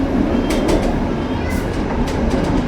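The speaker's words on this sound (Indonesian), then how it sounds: "ini dia sekarang aku berada di belakang lokomotif pas BB303" Train on the Lembah Anai service near Padang, hauled by a rare BB303 diesel locomotive and heard from the coach right behind it: a steady loud rumble of wheels and engine with repeated rail clicks passing by.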